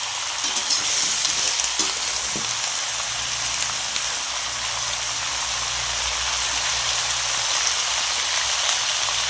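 Aubergine, beans and potato stir-frying in a pan for a Bengali whole-vegetable dish, giving a steady close sizzle and crackle with faint scraping and no voices.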